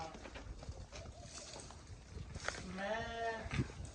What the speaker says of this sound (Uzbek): Ana qo'ylar.